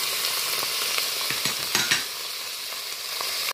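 Cut carrot pieces cooking in a covered pot for a carrot and orange soup, a dense continuous sizzle with light stirring clicks and scrapes, close and fairly loud, with no talking.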